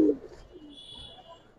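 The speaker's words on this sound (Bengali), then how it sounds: "এই সুন্দর কবুতর নটটা বিশেষ করে ডাকটা দিছে" A Giribaz pigeon gives a brief low coo right at the start, close and soft, then fades into faint background hiss.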